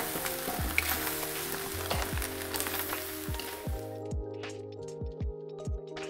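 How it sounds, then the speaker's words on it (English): Bean sprouts stirred into a pan of fried rice: a steady sizzle under repeated scraping, clinking strokes of a utensil against the pan, the frying hiss dropping away partway through while the stirring knocks continue. "we are adding some bean sprouts as well to the recipe. And giving that a stir."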